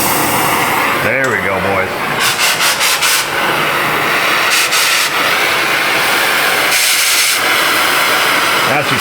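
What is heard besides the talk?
gas torch being purged and lit, hissing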